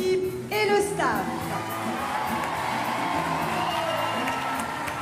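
Improv theatre audience at a trophy final cheering and whooping as teams and staff leave the stage, a bright shout rising over a steady crowd roar, with an announcer's voice at the start.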